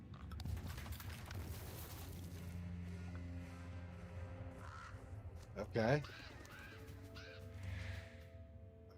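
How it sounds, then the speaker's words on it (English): Crows or ravens caw in a horror video game, harsh croaking calls over a low ambient drone and scattered booms, with a person speaking briefly. "ravens or crows, whatever you are exactly"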